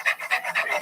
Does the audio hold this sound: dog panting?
yes